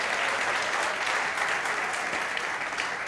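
A comedy show audience claps continuously in a dense, even wash of applause, with no voices standing out.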